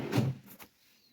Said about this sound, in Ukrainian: Такий фокус з одним фасадом відкривається два висувних ящика.